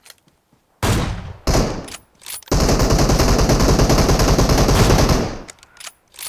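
Loud PUBG Mobile gunfire: two short bursts, then a long sustained rapid-fire stream that cuts off, followed by a few faint clicks.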